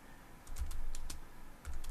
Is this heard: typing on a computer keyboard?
yes